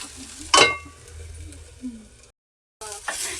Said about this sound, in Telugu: ఇవన్నీ దొండకాయ శనగపలుకులు దొండకాయ ఫ్రై అవుతుందండి